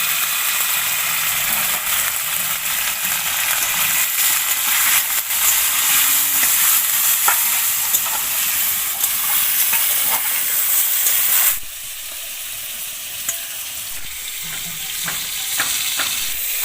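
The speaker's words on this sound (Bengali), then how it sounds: "পটলগুলো এখানে আমার খুব ভালো করে ভেজে নেওয়া হয়ে গিয়েছে, এবার আমি তুলে নেব।" Pointed gourd (potol) fries in oil in a pan, a loud continuous sizzling hiss with stirring scrapes, easing to a quieter crackle late on, no talk.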